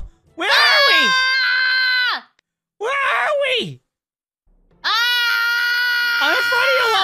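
High, wavering screams in three long bursts, loud and close, with short silent gaps between them.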